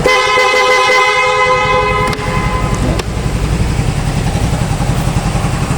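A loud aftermarket horn on a white Honda Fazzio scooter blares in a sustained, harmonically rich tone for about two seconds, then short bursts follow amid a mechanical drone.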